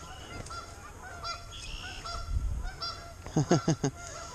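Several geese honk in bursts by the Wabash River, a harsh rapid series near the end louder than the scattered calls before, with faint bird calls around.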